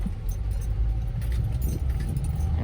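A 1997 Mazda B2300 pickup truck pulls out onto the street, its engine a steady close rumble, with a light metallic jangle like keys over it.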